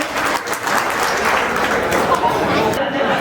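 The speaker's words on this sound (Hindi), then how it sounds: "एक बार फिर से पिंकी बहन के लिए तालियां हो जाए।" A crowd at a police unit's social gathering applauds for Pinky, a newly promoted Surat police officer. The clapping is loud and continuous, with some murmured chatter underneath.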